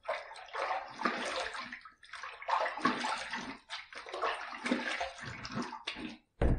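Running water splashes close by as a face is rinsed after a close shave with a stainless steel injector razor. The rushing stream continues with brief gaps and a short pause near the end, with no talking.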